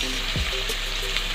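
Chilies hit a pan of frying pork liver with a steady, close sizzle and crackle, a few soft stirring scrapes breaking through the hiss, no voices.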